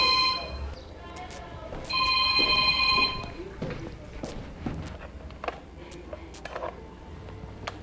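A telephone rings in two bursts of trilling bell tones, close and clear, followed by clicks, shuffling and footsteps in a room.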